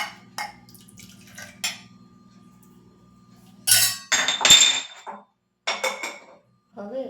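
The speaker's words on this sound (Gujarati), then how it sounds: "એમાં થોડું પાણી નાખી આપણે દહીંમાં એડ કરીશું, જેથી તેમાં ચોંટ્યું હોય તો તે બધું" Water splashes into yogurt in a clay pot alongside clinks of a utensil against the pot and dishes, in short close bursts separated by brief quiet gaps.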